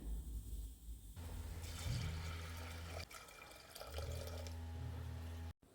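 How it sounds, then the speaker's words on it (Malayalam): Water pours and splashes into a cooker in a steady stream, stopping and starting, with a rushing flow near the microphone. "ഇനി ഒരു മൂന്ന് ഗ്ലാസ് വെള്ളം കൂടി ഒഴിക്കാം"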